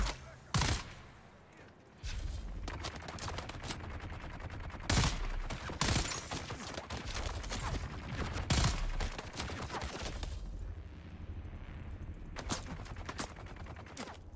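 Enemy gunners firing in the video game Dune: Awakening, with several loud broadband shots and bursts scattered across a steady background of game ambience, some shots near and sharp, others duller, with faint talk mixed in.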